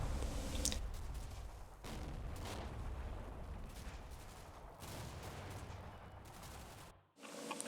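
A German artillery barrage in a war video game battle at Fortress Grosshau: continuous rumbling blasts and crackling gunfire overlap densely for several seconds, then cut out abruptly just before the end.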